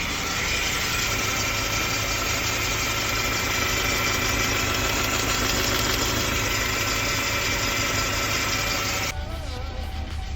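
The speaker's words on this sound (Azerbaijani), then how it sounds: "1-ci silindir başını qoyub işləmir və belə bir səs çıxardır motor" A BMW engine idles loudly and close up, misfiring on one cylinder, with an uneven, stumbling rhythm and knocking pulses, then cuts off abruptly near the end.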